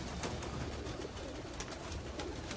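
Pigeons cooing softly in a loft, a low, quiet, continuous murmur of overlapping coos.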